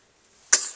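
A dog sneezes once nearby after a long walk: a single sharp, explosive snort that bursts out of near silence and then trails off quickly.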